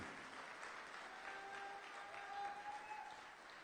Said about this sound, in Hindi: एक बार फिर से इस हॉल में तालियों की गूंज से उन सबको बता दो